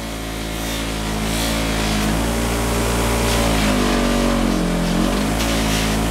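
Motorized buffing wheel polishing metal during an FZR restoration, a steady close motor whine with humming tones that sag in pitch midway as the wheel is loaded, then recover.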